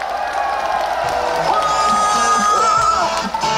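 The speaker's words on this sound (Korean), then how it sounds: "뜨거운 박수 부탁드립니다." A crowd at an outdoor Korean presidential campaign rally in Suncheon cheers and claps continuously, with whoops and shouts rising over the steady applause.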